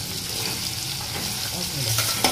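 Onion frying in a pan for stuffed karela, a steady close sizzle running throughout with light stirring scrapes and a small clink near the end.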